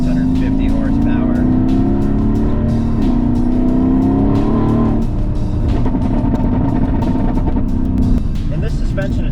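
An original Mercedes-AMG GT sports car, tuned to around 650 horsepower, drones steadily from inside while driving, its engine note rising in pitch as it accelerates, dropping briefly, then climbing again.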